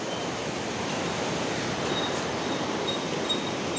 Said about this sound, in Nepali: कुस्सा खोला तर्नेछौँ धेरै डेन्जरस छ यो खोला